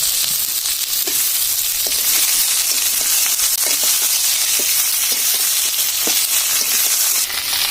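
Cucumbers drop into a hot pan of frying golsha fish, setting off a steady, close sizzle of oil with small crackles and stirring scrapes throughout, no voices.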